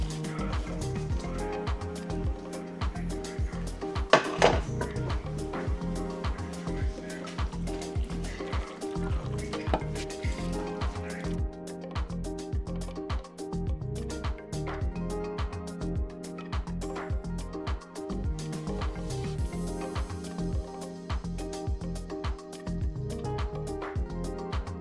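Pasta is added to a pot of creamy sausage and spinach sauce and stirred, producing soft repeated wet sloshing and squelching scrapes in a steady rhythm, close by and fairly quiet, with a knock near the start.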